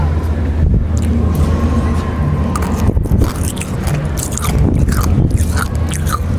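Nerds candy is chewed up close, making crunchy, crackly bites over a constant background rumble.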